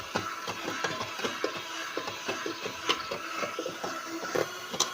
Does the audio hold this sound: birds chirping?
no